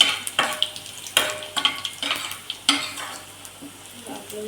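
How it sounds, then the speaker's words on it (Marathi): Garlic frying in a pan as it is stirred, with a steady sizzle and a few sharp clinks and scrapes of the spatula against the pan, close and clear, with no speech. "लसूण थोडा लाल होईपर्यंत परतूया."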